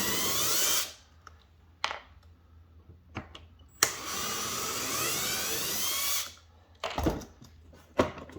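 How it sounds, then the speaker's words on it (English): Socket nut driver on a power tool running in a cosmetic restoration job, a sustained whine in two bursts of about one and two seconds, with clicks and knocks between. "I've actually switched over to a socket nut driver."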